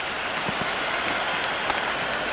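A cricket crowd in the stands at a Sri Lanka versus England T20 match sends up a steady, distant wash of cheering and clapping, with a few sharper claps popping out of the continuous roar.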